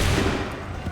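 Musket volley fire in Assassin's Creed III, a dense, loud burst of overlapping shots that rolls and fades across a second, with no clear gaps between reports.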